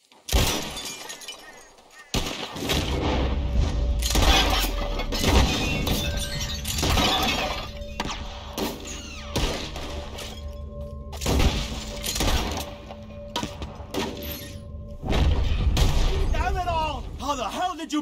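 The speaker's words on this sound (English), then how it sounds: "Whoever shoots more of these bottles wins." Gunshots shatter glass bottles one after another in a shooting contest in the video game Red Dead Redemption 2, sharp cracks and breaking glass in quick bursts, with spoken voices around them.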